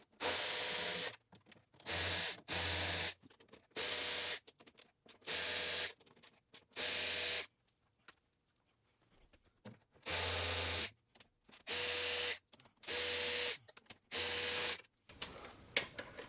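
A ratchet fitted with E12 and E14 sockets loosening the aluminum brace bolts on a BMW S55 engine (M3/M4) gives loud, rapid clicking bursts in evenly spaced strokes, about a dozen in all, with a short quiet pause midway, heard close up and alone.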